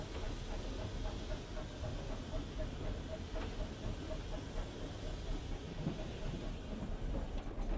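A preserved British steam locomotive hauling unfitted freight trucks at slow speed, heard from the footplate as a steady rumbling roar with hiss and faint rhythmic clanks, with a person speaking under the noise.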